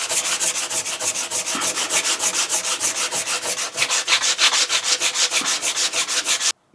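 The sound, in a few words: hand sanding a wooden cupboard door with sandpaper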